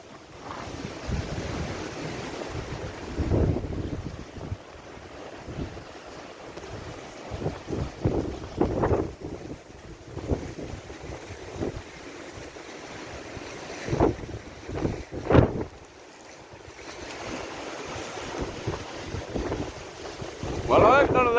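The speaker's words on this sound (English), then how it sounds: "Well, the water is going crazy. So much wind. It's like actual waves." Strong wind buffeting a microphone beside a lake as choppy waves slap and splash against the shore, gusting in loud irregular bursts throughout.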